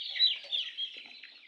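Farm chicks clucking and peeping continuously for a moment, a dense, high-pitched chorus of small birds close by with no one speaking.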